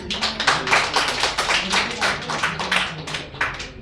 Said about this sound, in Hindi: तो चलिए स्टार्ट करते हैं एक जोरदार तालियों के साथ